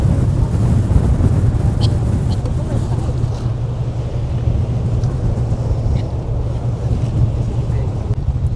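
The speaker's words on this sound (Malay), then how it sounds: "Wah, angin sangat kuat." Very strong wind at sea off Cape Town batters the microphone in a loud, continuous low roar, steady throughout with no clear speech.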